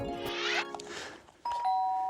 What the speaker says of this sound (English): why does the doorbell always go when I'm doing the washing up?